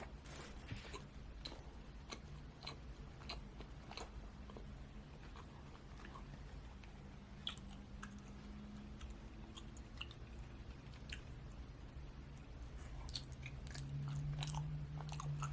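Close chewing and slurping of bread, with a continuous run of small wet crunches and smacking bites against a soft background hum, growing slightly louder toward the end.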